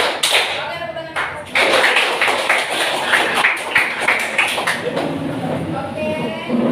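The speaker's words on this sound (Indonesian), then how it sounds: "Oke, tepuk tangan." A classroom of vocational high school students in Pekanbaru, Indonesia, applauds together in a dense, steady burst of clapping that lasts a few seconds and then fades, with a teacher's voice nearby.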